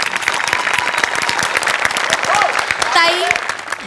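Studio audience applauding to welcome a famous female guest singer onto a comedy show set, dense steady clapping throughout, loud and close, with a brief vocal whoop near the end.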